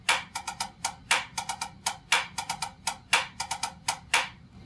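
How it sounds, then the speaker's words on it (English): Snare drum working through rudiment Lesson 25, a drag pattern with accents, played slowly: crisp, close strokes in a steady repeating figure of grace notes leading into louder accented hits, with no voices. "So slowly, the lesson 25 sounds like this."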